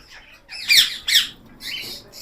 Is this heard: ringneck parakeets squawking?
yes